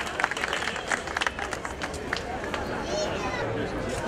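A crowd claps and cheers at an outdoor evening gathering in Davakis Square, Kallithea, honoring neighborhood police officers' children; steady applause with scattered shouts and crowd chatter fills the space.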